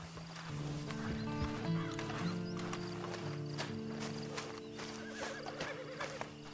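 A horse whinnies loudly in the video game Red Dead Online while hooves clop at a steady walking rhythm, with faint background ambience and no speech.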